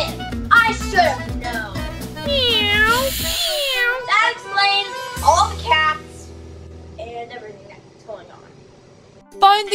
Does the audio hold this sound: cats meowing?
yes